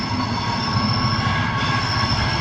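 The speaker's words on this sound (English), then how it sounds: "This train is formed of 11 coaches." An 11-coach Avanti West Coast train sits at a platform at Crewe station, giving a loud, steady rumble with rhythmic wheel clatter and a high squealing tone running throughout, with no voices.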